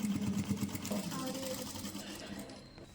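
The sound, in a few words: sewing machine stitching kurta side seam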